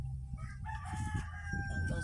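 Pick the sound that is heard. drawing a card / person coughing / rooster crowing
rooster crowing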